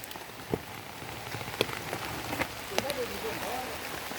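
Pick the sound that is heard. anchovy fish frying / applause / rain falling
rain falling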